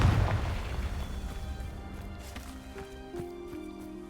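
Fiery blast from the Confringo spell in Hogwarts Legacy, a loud low boom at the start that rolls off into a decaying rumble, with faint game tones continuing behind it.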